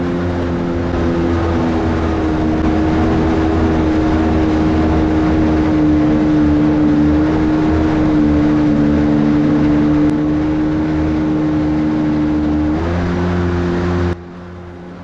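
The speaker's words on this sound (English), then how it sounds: "a 700cc twin two-stroke right behind my head is quite loud" A mini jet boat's 700cc twin two-stroke engine drones loud and steady right behind the listener, holding an even pitch before shifting slightly near the end and then dropping off.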